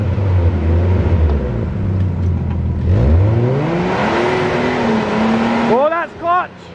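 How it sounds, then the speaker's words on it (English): An early-1990s Nissan R32 Skyline doing a burnout, the engine droning loudly, then revving and climbing in pitch with a rising roar and hiss, before a couple of sharp chirps at the end. "give us your best burnout"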